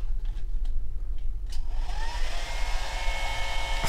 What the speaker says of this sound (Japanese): それから見るべきところとしてはドライヤーか